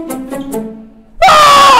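In a supermarket, a short stretch of a voice is followed by a sudden loud, shrill scream that holds at full volume until the end.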